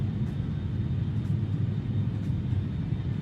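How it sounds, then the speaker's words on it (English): A steady, broad rumbling drone of an aeroplane flying overhead in a flight simulator game, continuous and fairly quiet with no voices. "Got that aeroplane over there, it was flying overhead."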